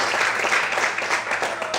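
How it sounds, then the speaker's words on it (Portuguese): A church congregation claps hard at an evening service, a dense, steady burst of applause lasting just a couple of seconds with no voice over it. "Aplauda o Senhor bem forte nessa noite."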